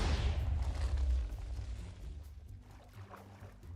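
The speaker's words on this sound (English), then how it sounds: "possibly the single biggest explosion so far" A TNT explosion in the Minecraft video game, a heavy low boom at the start that rumbles and decays over a few seconds, with faint scattered debris sounds after.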